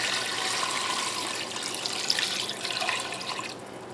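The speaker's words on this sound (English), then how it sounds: "And add enough water." Water pours into a cooking pot over fatty meat for a dried meat broth, a steady splashing hiss that holds fairly even and trails off near the end, fairly quiet and with no voices.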